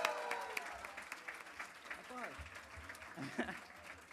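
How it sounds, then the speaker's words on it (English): A brief scatter of clapping from a small group at a Mahavir Janma Kalyanak celebration, mixed with talking and a little laughter. "Round of applause!"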